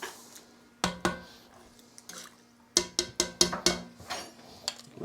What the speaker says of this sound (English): Let's stir it in.